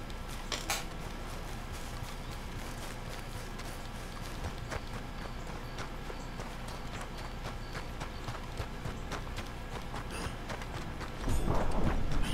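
Horse hooves clip-clop steadily in Red Dead Redemption 2, a continuous trotting patter near the listener, growing louder and denser toward the end.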